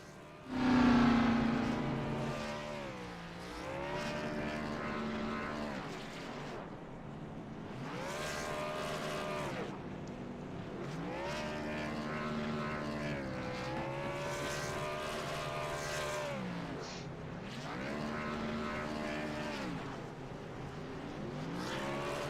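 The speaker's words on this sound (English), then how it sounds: "As we'll watch Ruben light up his tyres here. Do his victory burnout." A race car doing a victory burnout at Homestead in a racing game, its engine revving hard and sweeping up and down in repeated long surges, loud and sustained with no talking.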